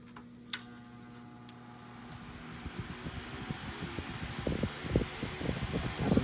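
A single-speed Canadian Seabreeze two-blade electric fan on an adjustable stand hums steadily, with a faint rhythmic ticking that grows louder and more rattly toward the end, heard alone without talk.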